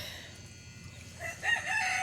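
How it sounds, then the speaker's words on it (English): Chickens cluck from inside a coop and a rooster crows briefly against a quiet background during heavy rain, fairly faint and not far off. "Most of the chickens are in the coop on the inside of here."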